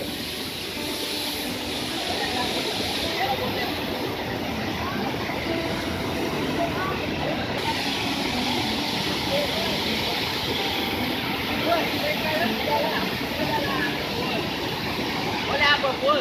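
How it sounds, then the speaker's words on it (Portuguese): Waterfall on a visit outing, with a steady broadband rush of flowing water held throughout, loud and continuous, with people talking over it. "Olha a água geladinha"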